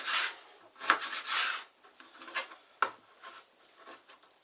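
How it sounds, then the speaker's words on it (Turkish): A knife chopping beef strips into small pieces on a wooden cutting board for Turkish tantuni, a close series of irregular rubbing strokes and sharp taps. "Daha sonra da kıymadan hafif büyük olacak şekilde doğruyoruz"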